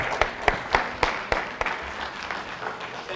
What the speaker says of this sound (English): One more round of applause for Dese'Rae.